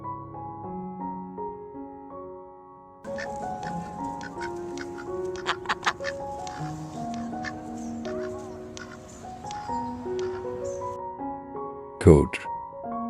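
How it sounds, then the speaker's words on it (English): Quacking from a duck over soft background music, scattered calls building in the middle and ending in one sharp, loud quack. "Duck."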